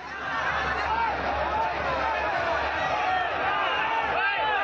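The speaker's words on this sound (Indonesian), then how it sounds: "Seperti inilah suasana keributan yang terjadi di luar lokasi debat kedua Pilgub Sumatera Utara di depan Hotel Santika" Rival supporters in a noisy commotion outside a gubernatorial election debate at Hotel Santika in Medan, a dense crowd roar of shouting and cheering that stays loud throughout with no pauses.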